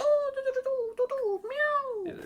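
A person's voice imitates a cat's meow, a drawn-out rising and falling mew about two seconds long with a brief tail at the end, close and clear.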